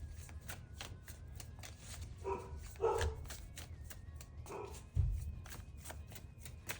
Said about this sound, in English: My dog is barking, sorry.